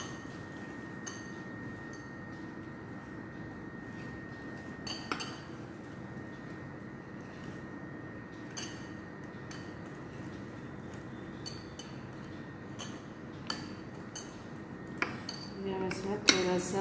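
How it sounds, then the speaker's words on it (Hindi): Utensils mixing a batter in a bowl to work out lumps, with faint intermittent clinks and scrapes of metal against the bowl, quiet and sparse over low background hum, with no talk. "बहुत अच्छी तरह से इसको मिक्स करना है, लंप नहीं रहना चाहिए इसमें।"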